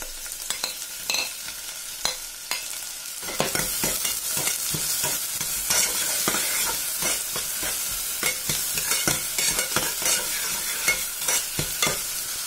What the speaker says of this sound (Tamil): கருவேப்பிலை இப்போ ஆனியன் போட்டுறலாம்